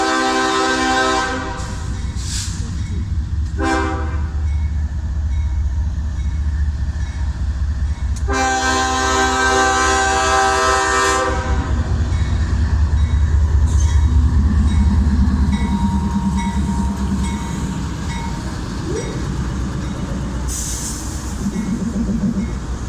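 A CSX intermodal freight train passes in Plant City, Florida, with loud horn blasts in the first half, then a continuous rumble and clatter of wagons rolling close by.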